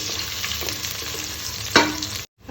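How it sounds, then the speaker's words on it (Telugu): Ingredients fry in hot oil until browned for a moong bean curry, a steady close sizzle running throughout with one sharper scrape of stirring near the end before a brief cut to silence. "బ్రౌన్గా ఫ్రై అవ్వాలి చూసారు ఇట్లా బ్రౌన్గా ఫ్రై అవ్వాలి"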